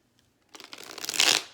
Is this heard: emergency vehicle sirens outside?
no